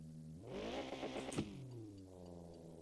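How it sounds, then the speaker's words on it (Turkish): A car engine revs hard in Car For Sale Simulator 2023, a close, loud roar that climbs and then drops back to a lower steady drone within a few seconds. "Ne bağırttın arabayı ya"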